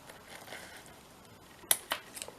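Scissors snip through a Christmas tree embellishment, two crisp close cuts in quick succession followed by a couple of faint rustles, in a quiet room.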